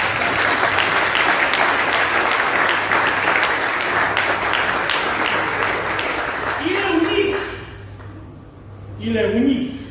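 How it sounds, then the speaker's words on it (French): Applause inside a seminary chapel during a Jubilee Mass, a loud, sustained clapping crowd that fades near the end as a voice begins speaking. "Applaudissements, frère."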